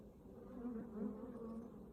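Honey bees buzzing around an open hive being inspected, a steady droning hum that swells slightly in the middle, close by with no talking.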